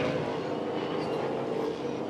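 A tilt train passes near the Tailem Bend motorsport circuit in South Australia, giving a steady, broad rumble of rolling wheels and carriages that holds at a constant level throughout.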